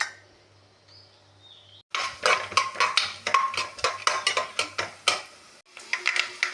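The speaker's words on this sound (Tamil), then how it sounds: "பொடி பொடியாக நறுக்கி வைத்துள்ள தேங்காய் துண்டுகளை சேர்த்து பொன்னிறமாக வதக்க வேண்டும்" Dense clattering and scraping of a utensil in a pan as finely chopped coconut pieces are sautéed until golden, continuous busy sizzle-like scrapes after a quiet start, fairly close and loud.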